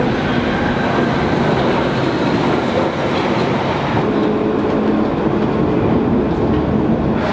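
A London suburban Greenford train pulls into a station at evening peak, a steady loud rumble of wheels and carriages with faint clickety-clack and brief wheel squeal, close by and continuous, no voices.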